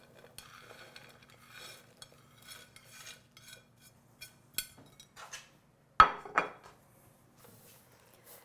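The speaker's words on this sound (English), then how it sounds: "And just give this a gentle stir." Dry granola with golden raisins, dried blueberries, dried mango and toasted coconut flakes is stirred in a bowl, giving soft scraping rustles and a few sharper clinks of a utensil against the dish, with no talking.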